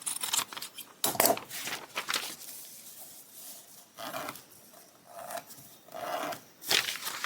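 Scissors snip through paper in a string of short, crisp cuts with pauses between them, close and fairly quiet, with faint rustling of the sheet.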